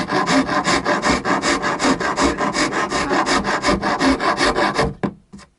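A Shinto rasp files wood in fast, regular push strokes, about twenty rasping passes in a steady rhythm, loud and close, before stopping abruptly with a couple of light scrapes.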